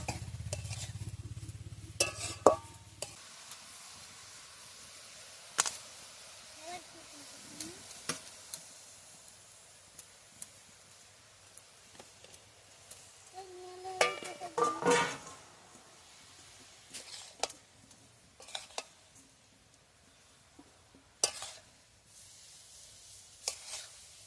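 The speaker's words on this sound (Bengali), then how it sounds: "খুব বেশি নাড়বো না, একটু অল্প করে নেড়ে নিয়ে ওর মধ্যে আমি যে দুধটা ফুটিয়ে রেখেছিলাম, সেই দুধটা আমি দিয়ে দেবো এই গাজরের মধ্যে" Grated carrots being stirred in a pan for Bengali-style gajar halwa, with boiled milk going in; scattered scrapes and light clinks of a spoon against the pan, moderately close, with no talking.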